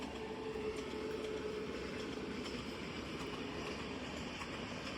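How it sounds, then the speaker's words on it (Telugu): A steady, continuous rumble of a train running along the rails near a road overbridge construction site in Ghatkesar, Hyderabad, broadband and loud throughout, with no voices. "రైలు కూడా పోతుంది."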